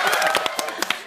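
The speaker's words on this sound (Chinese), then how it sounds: "还是要拍手" A small studio audience claps together to open a Taiwanese talk show, a brief burst of quick, moderately loud, overlapping hand claps.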